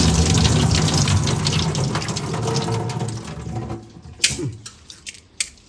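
Rice being washed under running tap water in preparation for pressure-cooker cooking: a steady close gush of flowing water that thins out toward the end into a few separate splashes and drips.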